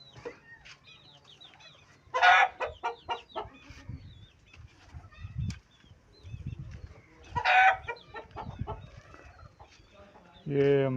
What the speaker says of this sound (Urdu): یہ ایک مرغی اور ایک مرغے سے سٹارٹ لیا تھا، اب تقریباً 20 مرغیاں ہو گئی ہیں